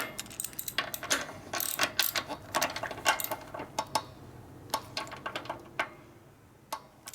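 A ratchet tightens a bolt on a 1972 Harley-Davidson Sportster XL Ironhead. Rapid, close, crisp clicking comes in irregular bursts of strokes with brief pauses, and no one talks.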